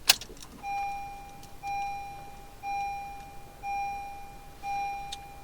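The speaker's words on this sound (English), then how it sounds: "turn the ignition back on." A car's ignition is switched back on, bringing a faint click followed by five evenly spaced electronic chimes about a second apart, each a clear steady tone, in a quiet interior.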